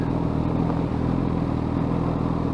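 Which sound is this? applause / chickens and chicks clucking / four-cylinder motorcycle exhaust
four-cylinder motorcycle exhaust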